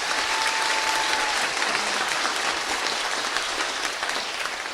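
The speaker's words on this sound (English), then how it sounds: "Can we please give a round of applause to them?" A graduation ceremony crowd gives a round of applause for the commencement band, loud sustained clapping from a large audience in a hall, continuous throughout.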